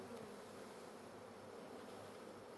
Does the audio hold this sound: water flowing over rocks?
no